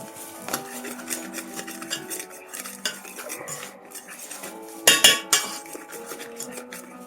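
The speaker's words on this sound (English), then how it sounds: "I'm going to keep sifting until I feel that they are incorporated" Saltpeter and cornstarch sifted in a metal sieve, scraping and rattling metal clinks in irregular strokes with a sharper rattle near the middle, close and fairly quiet, no voices.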